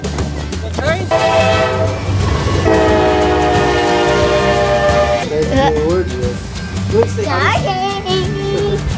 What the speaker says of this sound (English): Look, girls! The train's coming!